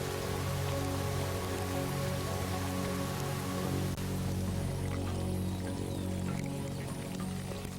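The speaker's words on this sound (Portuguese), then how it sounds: "Isto é mais que chuva, mais que água para beber." Rain falls on the Serengeti in a dense, continuous hiss of drops on the ground, loud and steady throughout, with a low underlying rumble.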